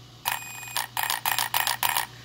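An Arrma BLX 185 ESC emits programming beeps: one longer tone followed by four short beeps in an even rhythm, clear and close.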